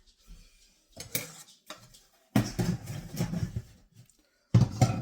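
Sourdough starter is stirred in a bowl with a utensil, giving several separate bursts of wet scraping and knocking against the bowl, close and fairly loud, with short pauses between.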